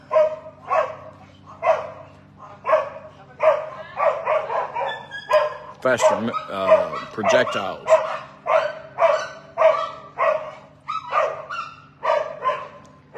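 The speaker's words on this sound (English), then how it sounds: "This is a dog neighborhood, as you can see." Several neighborhood dogs bark loudly and repeatedly in a steady, rhythmic volley, with a burst of overlapping yelps and whimpers midway and a voice speaking briefly.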